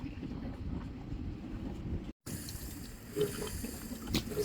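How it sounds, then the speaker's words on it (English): Cucumbers rinsed under running tap water at a sink, a steady rushing flow broken by a brief cut, then resuming with a few splashes, fairly quiet and without speech. "Just rinse them out."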